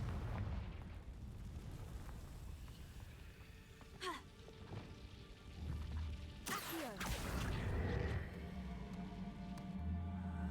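Confringo spell blasts in Hogwarts Legacy, with two sharp explosive bursts, one small at about four seconds and a bigger crash near six and a half seconds, over steady game ambience and rumbling background.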